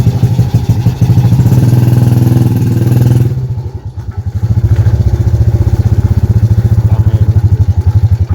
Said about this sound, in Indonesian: Motormu gelis.